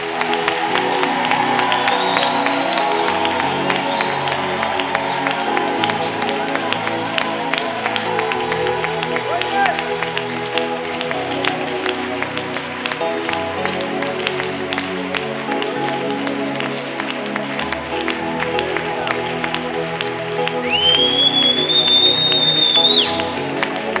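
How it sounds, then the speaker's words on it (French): A church congregation applauds and cheers in praise of Jesus, a steady wash of clapping and crowd voices lasting throughout, with scattered shouts and some whistles near the end. "Acclamons Jésus maintenant."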